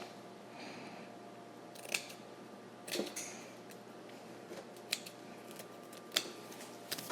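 Several sharp, brief cutting snips and slices scattered over a few seconds, close by, with a quiet background hum and no talking.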